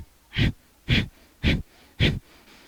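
Four sharp, forceful pulsed exhalations of bellows-style yoga breathing, evenly spaced about half a second apart, close and breathy with quiet pauses between bursts.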